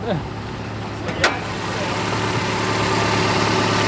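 A 1993 Mazda B2200 pickup fitted with a Weber carburetor and emissions gear removed idles steadily nearby, a low even engine hum with a brief sharp noise early on.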